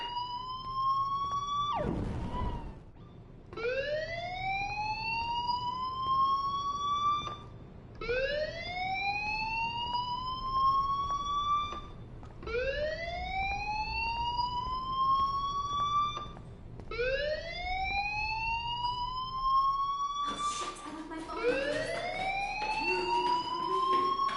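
A rising, repeating siren-like fire alarm sounds in a video game, about six loud, sweeping wails with short gaps, steady and close with no voices over it.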